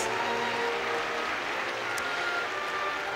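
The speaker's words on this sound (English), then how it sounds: "Please give a warm round of applause for the former ASEAN Secretary Generals" A large audience at a formal ASEAN 50th anniversary ceremony gives a warm round of applause, a steady, moderately distant wash of clapping with a few brief sharp accents.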